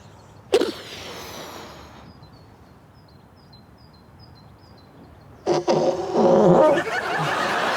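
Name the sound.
person imitating a fart noise with mouth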